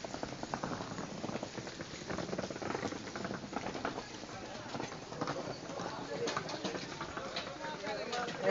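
Rain patters steadily with scattered taps and drips in Saudi Arabia, while people talk over it throughout.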